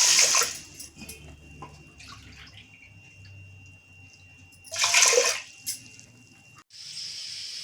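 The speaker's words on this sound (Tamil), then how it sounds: "இதை குக்கரில் கொட்டிட்டு 1 கப் அளவுக்கு 2 கப் அளவு வாட்டர் ஆட் பண்ணி" Water pours into a pressure cooker holding lentils in two loud splashing bursts, with quieter running water and clinking in between and a steady rush near the end.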